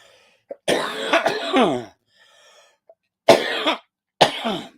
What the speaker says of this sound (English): it gets me coughing